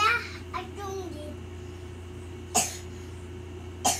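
A child coughs twice, short sharp bursts spaced more than a second apart, standing out over a steady low background hum in an indoor room.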